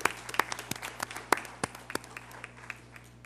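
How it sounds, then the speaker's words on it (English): Applause at a school Board of Education meeting: a modest group clapping in a large room, individual claps distinct and uneven, fairly faint and fading toward the end over a steady low hum. "Yes, that deserves an applause"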